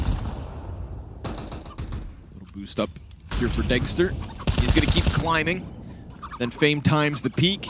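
Gunshots ring out during a Counter-Strike esports match, a few sharp cracks ending in a headshot, heard under fast, excited caster commentary and game noise.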